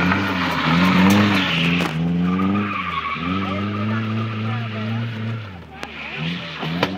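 Drift car skidding across a parking lot at a practice drift event, engine screaming with sustained tire squeal rising and falling in long sweeps, close and loud, with people talking faintly underneath.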